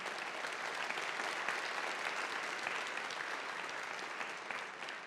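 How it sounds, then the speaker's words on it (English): A large audience at a college State of the College address applauds steadily, a dense, even wash of clapping that holds for several seconds and tapers slightly at the close. "ask for a big round of applause for our colleagues who produced the video we just saw"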